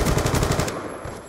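Loud, rapid machine-gun bursts ring out in a multiplayer shooter video game, a fast rattle of close shots that tails off into a quieter echo.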